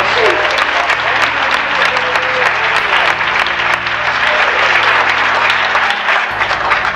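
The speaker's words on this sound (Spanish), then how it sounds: "Den un aplauso por ese con todo su corazón." A congregation claps in church, a loud sustained round of applause with some voices mixed in under the clapping.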